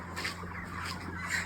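Many chickens cluck and squawk together inside a poultry shed, forming a steady crowded chatter over a low constant hum of shed machinery.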